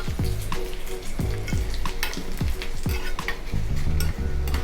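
Curry leaves and dried red chillies frying in hot tempering oil for a pineapple pulisseri, a loud steady sizzle with close stirring and clinks of a spoon against the pan throughout.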